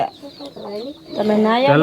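Domestic chickens cluck and squawk repeatedly at close range around an elderly couple's run-down home, rising and overlapping toward the end.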